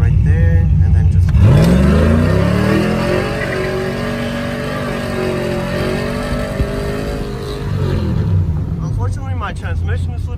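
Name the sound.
truck with cammed 5.3 V8 and new exhaust revving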